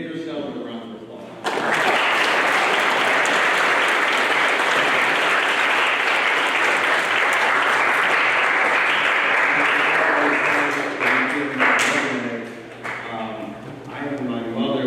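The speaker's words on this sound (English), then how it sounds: "give yourselves a round of applause." Loud, dense applause from the audience at a state mock trial tournament final, rising abruptly and holding for about ten seconds before tapering off as a voice begins.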